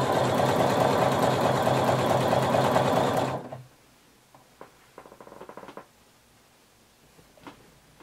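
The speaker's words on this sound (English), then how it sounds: "So we're going to sew and we're going to be pulling just a little bit until both pieces are even" A sewing machine stitches two pieces of swimsuit fabric together, running in a fast, steady mechanical whir for about three seconds, then stopping abruptly. After it stops, only soft handling clicks and rustles remain.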